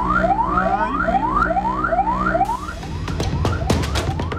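An emergency vehicle siren from a fire truck in Jombang, held up by a street parade, wails in repeated rising sweeps, loud and close, then breaks into rapid yelps and honks over heavy background noise.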